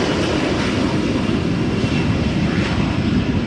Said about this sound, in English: SAS CRJ going to Copenhagen